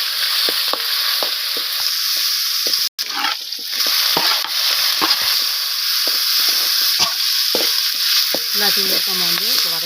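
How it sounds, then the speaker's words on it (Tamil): Curry leaves and onion sautéing in a hot pan, a steady loud sizzle with repeated scraping and stirring clicks, a brief cutout near the start, then frying continues. "கறிவேப்பிலை, வெங்காயம் கொஞ்சம் வதக்கிடலாம்."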